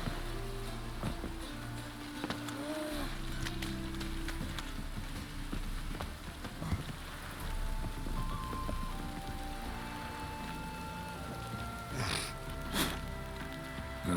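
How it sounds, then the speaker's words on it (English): Steady rain falls in The Witcher 3 game world, a continuous soft hiss of drops on the ground with scattered faint taps and muted background game sounds underneath. "Looks like rain."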